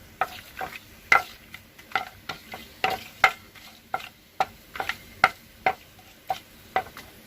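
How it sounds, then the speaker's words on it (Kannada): Whole spices in hot oil and ghee in an open pot, with a faint sizzle under a steady series of sharp metallic stirring clicks and taps, close and rhythmic. "ಈಗ ನೋಡಿ, ಸ್ಪೈಸಸ್ ಎಲ್ಲ ಹಾಕ್ತಾ ಇದ್ದೀನಿ."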